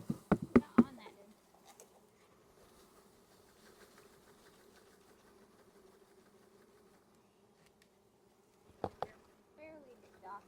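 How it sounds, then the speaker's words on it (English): A faint, steady honeybee buzz from a newly installed hive hums in the background between a few sharp knocks at the start and near the end. "Still a lot of bees in there."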